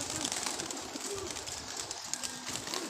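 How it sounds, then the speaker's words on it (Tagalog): Pigeons cooing at a pigeon race release, soft repeated coos from many birds over a busy outdoor background with wing flutters and murmur. "Dami ng ibon."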